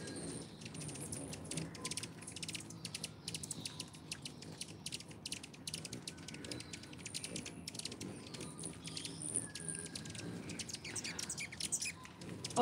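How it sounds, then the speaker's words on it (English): Birds chirp and tweet from the trees of a Southern California garden during rain, with small scattered calls over a steady wet hiss of rainfall throughout. "I see a lot of birds in the trees."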